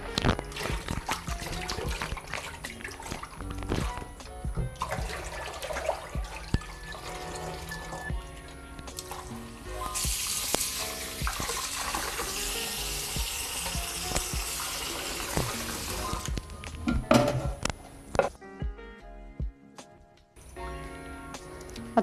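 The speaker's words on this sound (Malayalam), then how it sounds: "ഒരു ചട്ടി വെച്ച് നമുക്ക് നല്ല രീതിയിൽ വെള്ളത്തിട്ട് വാഷ് ചെയ്യാം" Pieces of tuna are washed in water in a pot for pickle, with splashing, trickling and dripping mixed with small clicks and knocks of fish against the pot, close and fairly quiet.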